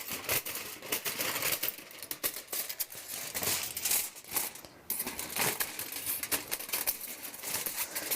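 Scissors snip and crinkle through craft foil for an ornament, a close run of sharp, irregular cuts and crumpling rustles with no talking.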